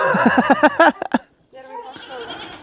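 Goats bleat loudly several times in quick succession, close by, followed by a pause and then a rougher, lower bleat.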